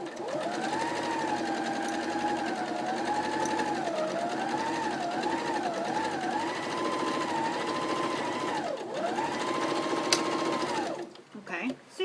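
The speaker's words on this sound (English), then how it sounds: "So I'm just going to stitch this right straight across." Sewing machine running steadily for about eleven seconds while stitching straight across a tutu purse, a loud continuous whirring drone that rises and dips slightly in pitch, then stops near the end.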